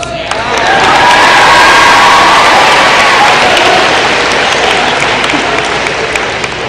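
Sustained applause from a school assembly audience at Salem Middle School honoring students, a dense wash of clapping with some cheering and faint voices, swelling quickly and holding steady throughout.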